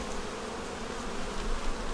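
Honeybees buzz in a dense, steady hum on a hive frame holding a yellow-marked queen, brood and eggs, a close, continuous drone with no voices.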